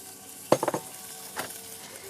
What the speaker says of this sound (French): Donc je vais faire revenir un petit peu d'oignon.